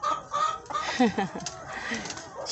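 Chickens, hens and roosters together on a farm, clucking in several short overlapping calls at close range, with people talking nearby.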